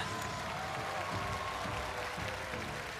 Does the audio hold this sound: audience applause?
yes